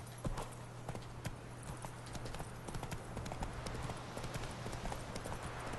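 Horse hooves clip-clop steadily while riding in the video game The Witcher 3: Wild Hunt on PS4, an even rhythmic gait at moderate level over a low hum, with no talk.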